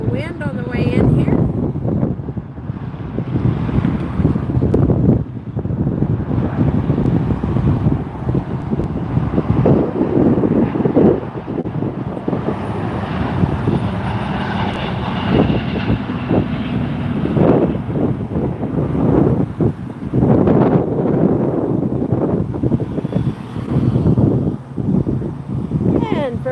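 Strong gusts buffet the microphone in a continuous roar at Las Vegas airport while a Virgin Atlantic A350 comes in to land, with a low aircraft rumble mixed into the wind.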